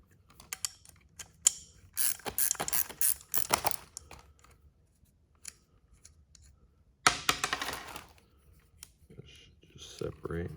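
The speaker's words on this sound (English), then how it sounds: "First, let's take off this bolt nut. This is a 13." A ratchet works a 13 mm nut off a Mikuni butterfly carburetor from a 1979 Arctic Cat Trail Cat snowmobile, giving bursts of rapid close clicking with pauses between strokes, fairly quiet.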